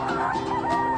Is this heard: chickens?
yes